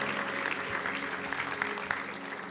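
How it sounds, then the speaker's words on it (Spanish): Church congregation applauding together, a steady dense wash of clapping that holds evenly from start to finish with no voices over it. "Vamos a darle un aplauso."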